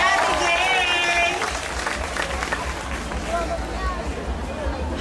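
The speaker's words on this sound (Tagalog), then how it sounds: "Palakpakan na may halong sigawan, Regina!" A live festival audience claps and cheers loudly, a dense wash of applause and shouts that gradually thins, with a voice speaking over the crowd.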